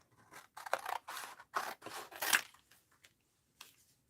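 Scissors snip through the edge of a paper art-journal page in several close, crisp cuts separated by short pauses, with no talking.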